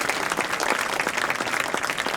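Crowd applauding school board members at a marching band preview night, continuous dense clapping filling the space, steady and fairly loud without talk.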